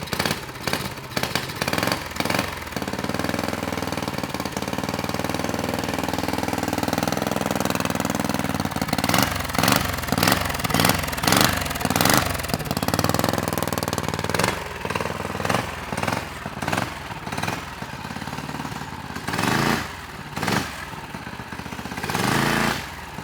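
A Tillotson 212 small engine on a budget go-kart build starts and runs loudly up close, sputtering with uneven revving bursts and choppy pulses at a rough idle, with no talking.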